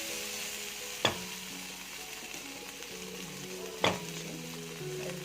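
Okra stirred into tomato sauce in a pot for an okra and meat tagine gives two distinct scraping strokes of a spoon against the pot over a soft, quiet simmering sizzle.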